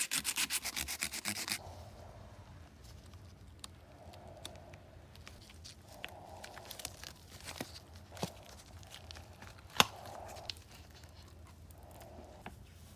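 Quiet sanding over an epoxy resin book cover inlay, a slow series of soft rubbing strokes repeating every second or two after a brief burst of crackling at the start, close and faint with no voices.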